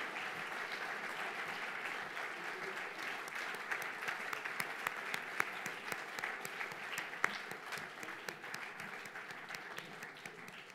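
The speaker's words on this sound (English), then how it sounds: "Keep the applause going," A large audience at an India social entrepreneur award ceremony gives sustained applause, a dense steady clapping that fills the room without a break and carries no talk over it.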